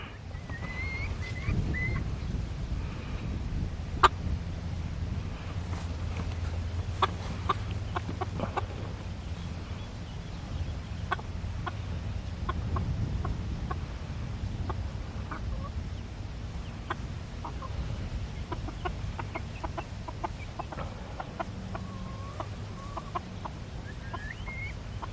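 Silkie chickens in their coop cluck and murmur on and off, with scattered close calls and soft chirps over a steady outdoor background.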